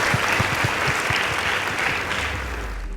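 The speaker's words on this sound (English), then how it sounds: "Please give them a round of applause" Applause for a high school debate team after its score is announced at a school debate competition: steady, dense clapping from an audience that fills the whole stretch and tapers slightly toward the end.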